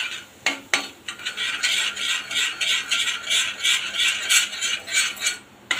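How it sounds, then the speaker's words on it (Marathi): A spoon stirs a spice mixture for Rajasthani mirchi pakoda in a bowl, giving steady scraping and rubbing strokes in a continuous rhythm, close and fairly loud, with a couple of sharper knocks near the start. "आता चांगलं मिक्स करूया।"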